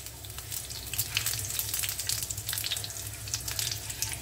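Dried red chillies and panch phoron sizzle in hot oil for a bitter gourd mixed bhaji, a close crackling hiss with bursts of spattering pops over a low hum, no voices.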